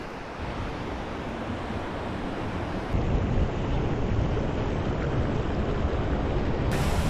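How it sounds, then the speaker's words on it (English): Ocean waves wash and splash over a small coastal rock shelf at Freycinet, a steady close rush of surf that surges louder partway through, with wind buffeting the microphone. "getting splashed by waves, as you can see them lapping over this little shelf here"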